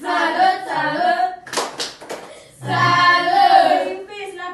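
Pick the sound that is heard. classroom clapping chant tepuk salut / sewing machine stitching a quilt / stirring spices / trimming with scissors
classroom clapping chant tepuk salut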